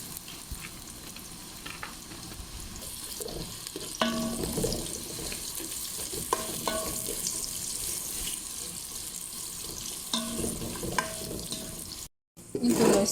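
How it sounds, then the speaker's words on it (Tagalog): Carrots frying in a pan give off a steady sizzle under scattered clicks and scrapes of stirring, close and moderately loud, with a brief cut to silence near the end. "Prituhin muna natin yung carrots para lumambot."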